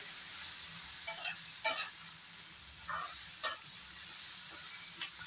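Potatoes and onions fry with cumin powder in a pan, a steady soft sizzle broken by several brief scraping stirs of a spatula, close and fairly quiet with no talking.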